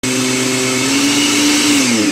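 A food processor whirs steadily as it mixes unsalted butter into pie crust dough, a loud continuous motor drone that shifts slightly in pitch, with no voices.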